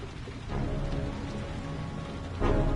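Steady rain falling in the Heavy Rain video game, a dense, continuous hiss of drops on surfaces that swells slightly louder toward the end, with no voices.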